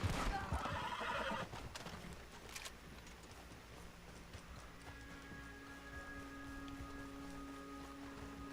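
A horse in Red Dead Online gives a short whinny near the start amid a few hoof clops, then a quieter outdoor bed with faint rain-like patter and a low sustained tone continues.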